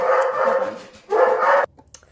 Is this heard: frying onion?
no